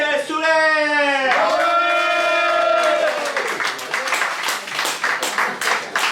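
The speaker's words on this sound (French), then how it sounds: "D'applaudir très fort Christelle Soler." An audience at a French-Quebec slam poetry tournament claps and cheers after a host's drawn-out spoken introduction, with the applause swelling into a dense, steady patter up close.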